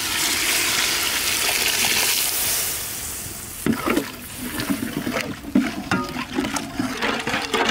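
Broth from boiling lobster poured into a pan of lobster curry masala with turmeric and rock salt, a steady rushing pour at first, then bubbling sizzle and scraping as the liquid hits the hot pan, fairly close.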